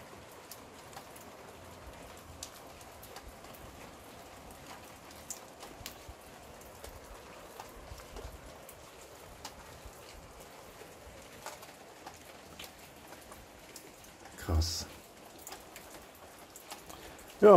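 Steady light rain patters in a garden on Madeira, a soft continuous hiss of falling drops with faint bird calls and a couple of louder knocks near the end, no talk.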